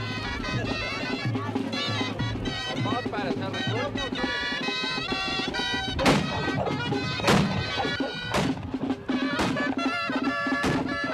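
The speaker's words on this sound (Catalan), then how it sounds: "Precedida de l'espetec de les traques, els petards i la disparada de morters" Sharp, loud bangs burst out several times, irregularly spaced, over music and chatter: firecrackers and mortars going off at a winter town festival in Sant Pere de Ribes, Catalonia.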